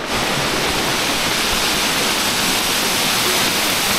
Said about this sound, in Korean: 물소리도 계속 들리는 게 좋고요